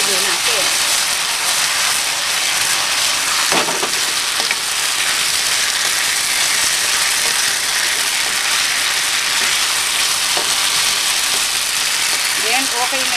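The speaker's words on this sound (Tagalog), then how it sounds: "Then, sasama na natin itong ating pork. Then, mix din natin." Pork sizzles and fries loudly in a pan for sweet and sour pork, a dense continuous crackle with occasional scraping clicks of stirring, and talk faintly underneath.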